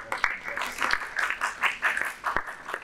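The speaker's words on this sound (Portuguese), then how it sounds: "uma salva de palmas, pessoal" A small gathering at an evening briefing claps, sparse and uneven, with individual hand claps standing out over a thin, fairly quiet patter.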